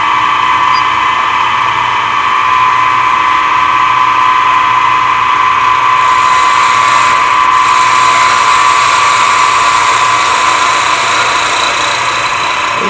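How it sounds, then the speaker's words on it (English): Steady, loud whine of a wood lathe spinning very hard wood while a skew chisel cuts a finial-like cone, a continuous high buzzing drone with no pauses. "Probably I'll switch to my skew chisel."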